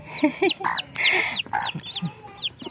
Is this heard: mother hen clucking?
yes